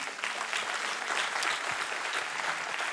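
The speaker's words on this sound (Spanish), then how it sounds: "Dáselo el aplauso al Señor." Sustained applause from a congregation at a religious service, dense clapping at a steady level for a few seconds with no talking over it.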